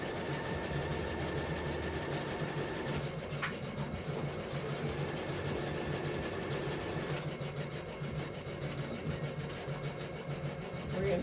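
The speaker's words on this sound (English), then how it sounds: "I'm going to do the same thing with these side seams and put in a reinforcement stitch, zigzag stitch with" A sewing machine runs a zigzag reinforcement stitch along the side seams of a garment, a soft continuous mechanical whir at low level with slight shifts in pace.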